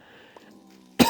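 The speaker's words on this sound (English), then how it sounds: "it's not really a cold; it's a cough." A single sharp, loud cough bursts out close to the microphone after a quiet stretch with faint background game tones.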